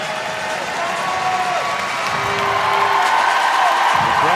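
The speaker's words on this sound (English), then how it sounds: "The crowd getting behind Big Bron." A crowd at the CrossFit Games arena cheers and applauds steadily for an athlete finishing last on the competition floor, a dense, sustained roar with whoops that swells slightly toward the end.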